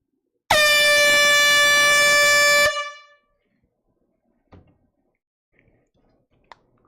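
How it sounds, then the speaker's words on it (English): A very loud, high-decibel air horn blasts once for about two seconds, a sustained piercing tone that rings out, followed by a few faint clicks and knocks. "a very loud and high decibel level air horn is about to be blown"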